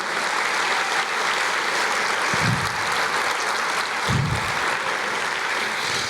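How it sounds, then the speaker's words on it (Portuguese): Sustained applause from a church congregation during a sermon, a dense steady wash of many hands clapping with a couple of brief low vocal bursts. "Eu quero ver uma salva de palmas para Jesus"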